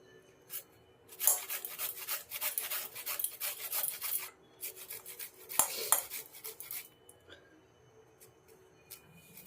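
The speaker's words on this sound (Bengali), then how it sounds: "এই হ্যান্ড গ্রেডারের সাহায্যে করলে খুব মিহি হয় এই দেখো একদম মিহি হচ্ছে" A carrot is rubbed against a hand grater in quick rhythmic rasping strokes, close and crisp, in several bursts separated by short pauses.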